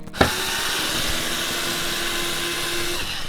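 A power drill or driver whirs steadily and close while backing out screws from an RV HVAC vent cover, a continuous motor drone after a short click at the start.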